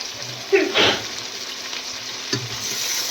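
Chopped vegetables, including cut potatoes, frying in oil for a homemade veg biryani, giving a steady close sizzle with a few louder bursts as pieces are tossed or stirred, no talking.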